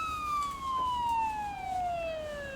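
An ambulance siren in a driving video game wails steadily in a long, slowly falling tone over a constant engine rumble, loud and close with no talk over it.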